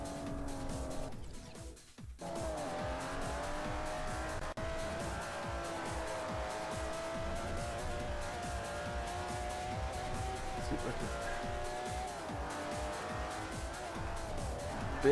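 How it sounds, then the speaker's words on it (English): In Forza Motorsport 4, a race car oversteers and skids off into the grass, its engine droning steadily at high revs with a rough, scrubbing tire noise over a constant background. "I was trying to correct the oversteer and it just shot me in the grass"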